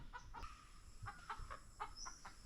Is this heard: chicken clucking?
yes